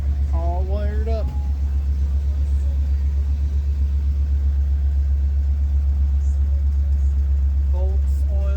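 A 1941 Plymouth engine runs steadily after starting, a loud, constant low rumble at close range throughout, with someone briefly talking over it near the start and end.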